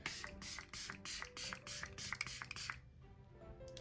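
A rapid series of short bursts of makeup setting spray, about nine puffs in a steady rhythm, close up, then quiet.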